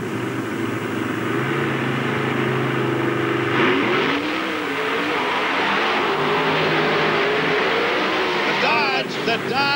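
Monster truck engines revving at a 1995 Indianapolis race, a loud, sustained engine roar that rises in pitch and surges, with crowd and arena noise and a commentator's voice over it.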